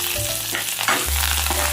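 Finely chopped curry leaves hit hot oil in a tempering for rava idli, giving a brief burst of close frying crackle and sizzle with a low hum underneath, no talking.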